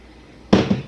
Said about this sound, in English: So we're going to pour this on the rice.